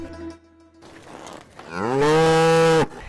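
Cattle moo loudly at the kickoff of a county fair and rodeo in Castle Rock. After a few lower calls, one long, drawn-out, rising moo rings out close by for about a second.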